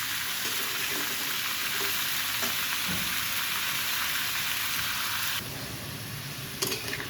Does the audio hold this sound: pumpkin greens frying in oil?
yes